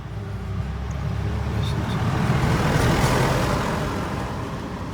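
A Vauxhall Vectra B engine runs during an oil change, a steady low rumbling idle that swells slightly midway and stays close and continuous without speech.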